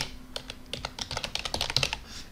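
Fingers type a word on a computer keyboard in a quick run of close, crisp key clicks that speed up toward the end, with a final Enter press and no speech.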